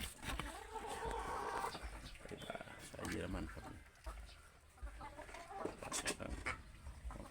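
Purebred German-line laying hens (Plymouth Rock type) clucking in a pen, scattered clucks and squawks beneath someone talking close by.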